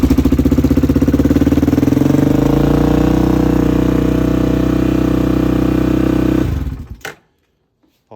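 Polaris Predator 500 ATV engine running at a steady, loud, close idle with a rhythmic low thrum, then cutting off abruptly and falling to silence near the end.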